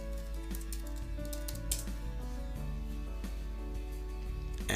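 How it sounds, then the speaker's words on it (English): Someone types a short word on a computer keyboard, a quick run of faint, closely spaced key clicks heard alone over a steady low hum. "if I was to just type in here plumbing"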